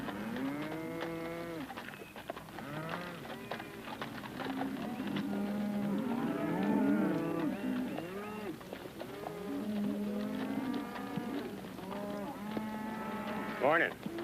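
A herd of cattle moos repeatedly, overlapping low calls from several animals near and farther off, continuing for the whole stretch in an outdoor setting.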